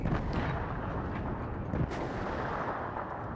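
Artillery fire in the video game WARNO, a dense, continuous rumbling barrage of booms with no pause, loud and steady throughout.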